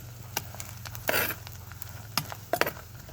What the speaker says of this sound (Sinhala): කහ ටික දාලා අපි කලවම් කරලා හොඳින් බැදගන්න.